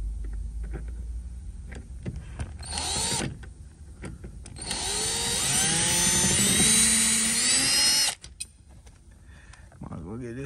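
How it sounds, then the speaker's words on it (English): A Harbor Freight power drill whirs in a short burst, then runs again for several seconds with a rising, high-pitched whine before cutting off abruptly, while removing chrome trim from a 1984 car. "Got this drill from Harbor Freight."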